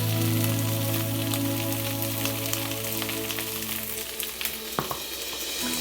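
White beans tossed into a hot pan sizzle and crackle steadily at close range, with a few stirring taps near the end as the hiss fades slightly.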